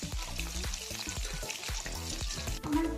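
Knife-cut paneer pieces fry in oil for paneer kabli, giving a close, continuous sizzle with faint stirring and pan sounds underneath, without speech.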